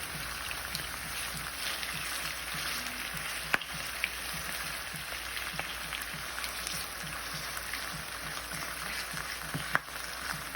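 Turkey wings browning in a frying pan give a soft, steady sizzle and crackle, with a couple of faint sharp ticks from the pan.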